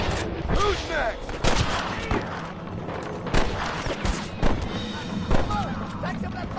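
Repeated gunfire from a shootout in Red Dead Redemption, sharp cracks and bursts at irregular intervals over a busy rumbling backdrop, with a voice speaking during the fight.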